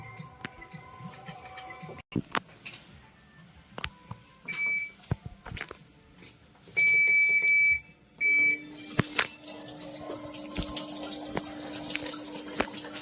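A Haier top-load washing machine fills with water after its supply problem is fixed, with clicks and a few electronic beeps, then a steady rush of inflowing water growing louder toward the end.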